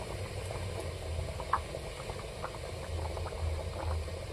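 A pot of ghugni made with chickpeas and peas bubbles gently on the stove, a faint, steady low simmer with an occasional soft pop or clink, quiet and close with nobody speaking.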